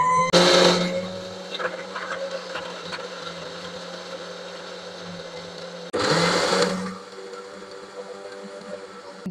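A blender grinds dates and other ingredients in a jug in two short, loud whirring bursts separated by a quieter stretch. A faint background hum runs throughout.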